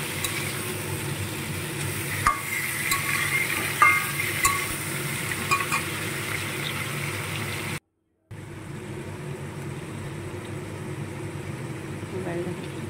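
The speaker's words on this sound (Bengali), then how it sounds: "এবারে কাঁচা লঙ্কা আর পেঁয়াজ দিয়ে লাল লাল করে আবারও ভাজবো" Onions and green chilies frying in a pan give a continuous close sizzle with occasional stirring clicks, briefly cut out for a moment midway, with a voice faintly in the background.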